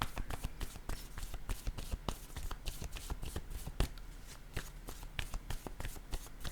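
Tarot cards are shuffled by hand close up, giving a continuous papery riffle of rapid flicks and taps with a few louder slaps, steady for several seconds.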